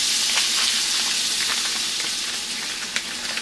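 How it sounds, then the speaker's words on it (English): Sausage sizzles and crackles steadily in a hot frying pan, a close, continuous hiss with a few sharper pops near the end and no talking. "I'm about to make me some sausage."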